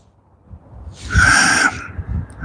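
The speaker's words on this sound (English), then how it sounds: "See, I can hear a pigeon." A single pigeon coos nearby at an outdoor park-and-ride, one soft, hollow, breathy call lasting about half a second against a quiet background.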